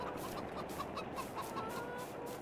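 Chickens cluck in a rapid, steady patter of short calls over a constant low background hum in the Farming Simulator 22 video game, with no voices.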